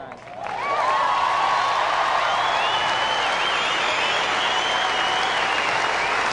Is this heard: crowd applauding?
yes